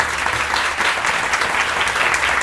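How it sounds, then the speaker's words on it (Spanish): An audience applauding at a symposium on invasive species, a loud, dense burst of many people clapping, sustained evenly with no talking over it. "Muchas gracias, un aplauso."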